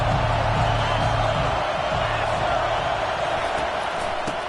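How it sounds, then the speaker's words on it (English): A stadium crowd in the college football game NCAA 25 roars steadily on a third-down defensive stand, a broad sustained wash of cheering that holds for several seconds beneath a play-by-play announcer's voice. "Decibels rising as the crowd gets behind this defense on third down."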